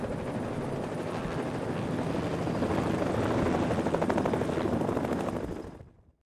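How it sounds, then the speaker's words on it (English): A mining supply helicopter drones with a steady rapid rotor chop in the remote Four Peaks area of Arizona, growing slightly louder before cutting off abruptly at the end. "Mining supplies arrive by helicopter as needed"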